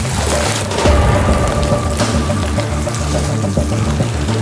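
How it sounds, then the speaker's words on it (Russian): A flooded river in the Carpathians overflowing its banks makes a steady, dense roar of rushing water with deep low rumbling, loud and continuous throughout with no voices. "Река из берегов вышла."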